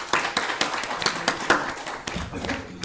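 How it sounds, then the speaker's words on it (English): An audience at an MSME Day 2025 event applauds in a brief burst of scattered, fairly close hand claps with a faint voice underneath. "So please give him a round of applause."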